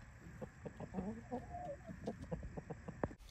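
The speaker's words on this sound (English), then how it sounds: "Here are the roosters, the culprits of making sound when I'm doing my videos." Roosters cluck in quick, uneven bursts nearby, with one drawn-out call partway through and a sharp squawk near the end.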